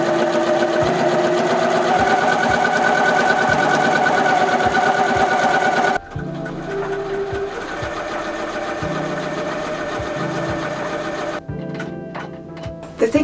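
A sewing machine stitches at its slowest speed, producing a steady, close mechanical whir with regular ticking needle strokes that briefly pause and then resume.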